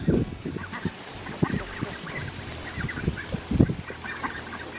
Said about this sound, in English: They're Pekin ducks.